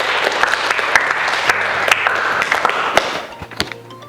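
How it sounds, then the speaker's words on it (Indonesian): A classroom audience claps for a student group's presentation during a university practice-teaching session: dense, steady applause from many hands, close and lively for about four seconds before thinning slightly at the end. "kalau cukup kita beri aplaus untuk kelompoknya Alia"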